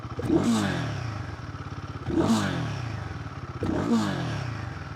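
A Royal Enfield Guerrilla 450 motorcycle engine idles steadily around 1800–2000 rpm, heard from the rider's seat, with a throaty, pulsing rumble and three swelling blips roughly every two seconds, close up.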